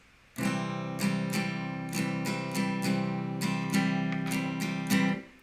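An acoustic guitar chord strummed repeatedly in a steady down-down-up rhythm, bright and close, with no voices.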